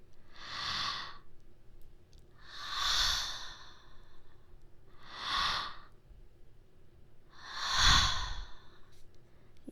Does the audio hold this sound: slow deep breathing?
yes